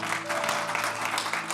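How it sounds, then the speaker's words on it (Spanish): Church congregation applauding, a dense steady wash of clapping that holds at an even level for a short burst, with a faint tonal hum beneath. "Dele ese aplauso fuerte a Cristo."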